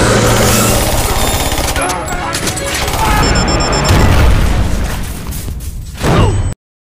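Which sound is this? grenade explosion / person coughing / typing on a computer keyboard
grenade explosion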